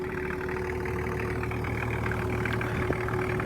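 A 1992 Toyota Land Cruiser HZJ77 diesel engine idles steadily and evenly, a continuous close-up rumble with a faint whine, heard on its own.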